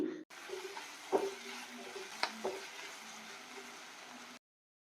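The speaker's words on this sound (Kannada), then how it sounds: "ತರಕಾರಿ ಸ್ವಲ್ಪ ಫ್ರೈ ಆಗಿದೆ" Vegetables and sliced capsicum stir-frying in a pan for veg fried rice, a soft steady sizzle with a few clinks and scrapes of a spatula against the pan, no talk.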